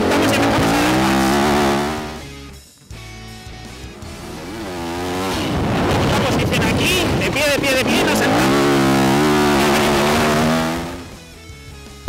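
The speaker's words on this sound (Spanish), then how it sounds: "aquí nos sentamos y empezamos a dar gas." A Yamaha WR enduro motorcycle on an enduro special-test course revs hard, its engine note climbing and falling through gear changes, dipping briefly before surging loudly again and then easing off.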